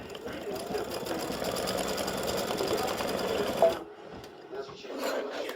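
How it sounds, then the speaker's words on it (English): An embroidery machine stitches a shamrock in green thread, a steady rapid mechanical chatter close by for several seconds before stopping abruptly, followed by quieter handling and faint sounds. "I have green in the bobbin and green up top, and we're going to stitch the shamrock"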